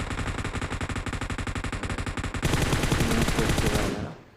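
Rapid automatic gunfire in the PUBG Mobile video game, a dense continuous stream of loud close shots that grows harsher halfway through and then cuts off abruptly.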